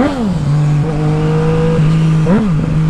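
A powerful Honda CB1000 motorcycle engine roars up close, rising in pitch as it revs, holding a strong steady drone, then dipping and climbing again in a second quick rev near the end.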